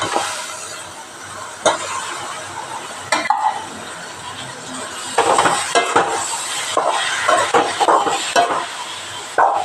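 Tomatoes tossed into a hot frying pan of egg curry base and stirred, with scraping spoon strokes and clinks against the pan over a steady sizzle, close and fairly loud.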